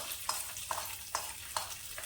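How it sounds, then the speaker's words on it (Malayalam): Fried mustard seed tempering with curry leaves goes into a clam meat and jackfruit seed curry, giving a soft sizzle punctuated by four evenly spaced clinks of a spoon against the pot. "ഈ കടുക് വറുത്തത് നമുക്ക് ഈ നമ്മുടെ കറിയിലേക്ക് ഇട്ട് കൊടുക്കാം."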